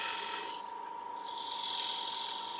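A file rasps a piece of turned wood down to a taper on a small woodturning project, with steady close scraping strokes, a short pause, then more filing.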